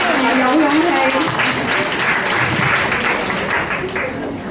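Audience applause at an evening talk, a steady dense wash of clapping from a crowd that stays loud throughout and eases slightly toward the end, with voices mixed into it.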